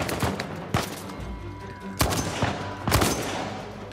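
Video game gunfire in Uncharted 4: several sharp, punchy shots in an irregular burst-like pattern over a low rumbling game soundscape, moderately loud with no talking.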